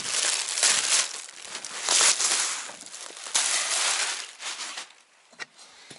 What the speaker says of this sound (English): let's take a peek where the package was ripped. I don't see anything, so let's actually unwrap it.